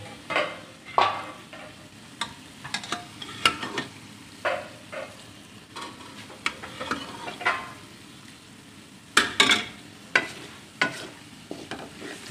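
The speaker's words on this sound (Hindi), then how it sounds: "वो यखनी वाला पानी डालेंगे।" Stock water poured into meat frying in a pot for wedding-style aloo gosht, with repeated stirring scrapes and a steady sizzle, close and fairly quiet, spaced strokes throughout with no talking.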